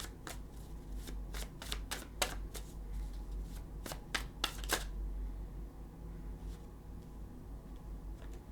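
A deck of tarot cards is shuffled up close, with a series of crisp riffling bursts that trail off into quieter handling and soft rustles, with no talking.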